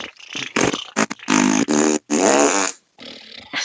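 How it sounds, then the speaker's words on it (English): A long series of loud, close fart sounds in rapid succession, some short pops and some drawn-out buzzy blasts, with a brief pause before a final stretch. "Even the Queen of Britain farts."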